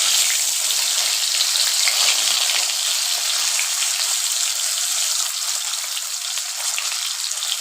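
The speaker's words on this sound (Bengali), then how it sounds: "এবার পটলগুলো ফ্রাই করে নেব।" Pointed gourd (potol) pieces fry in hot oil, giving a loud, steady, dense sizzle and crackle that runs continuously and close up.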